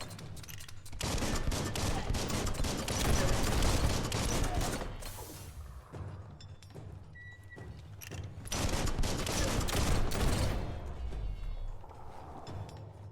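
Rapid gunfire crackles in the video game Biomutant, dense bursts of shots in two long volleys with a short lull between, loud and close.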